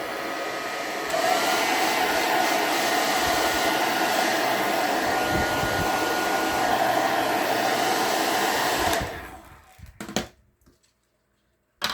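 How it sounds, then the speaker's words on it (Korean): A hair dryer blows steadily for about nine seconds, drying white paint on ice cream sticks, then cuts off, leaving near silence with a couple of faint handling knocks. "다시 한번 드라이기를 이용해서 말려보도록 하겠습니다."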